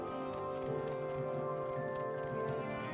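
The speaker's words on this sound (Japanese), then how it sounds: "この先から足音はするんだよな" Footsteps sound from somewhere ahead in the video game Morrowind, a faint, steady run of soft rhythmic thuds that carries on without a break, with no talking.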